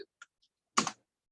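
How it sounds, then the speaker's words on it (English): A few quiet, separate taps on a keyboard, followed by one slightly louder clack. "why am I not typing well today?"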